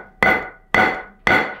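A hammer strikes coin dies three times in even succession, each blow sharp, loud and close, followed by a short ringing decay, with no talk.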